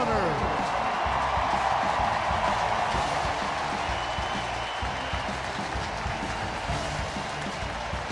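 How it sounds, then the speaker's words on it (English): A large stadium crowd at Memorial Stadium roars in a steady, dense wash during a football Ring of Honor unveiling, heard from a distance and sustained throughout, with an announcer talking over it. "You can hear the crowd behind us."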